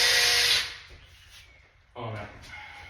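A power drill fitted with a small bit bores a pilot hole in wood, giving a short whine that fades and then a second brief burst, close by, with no voices.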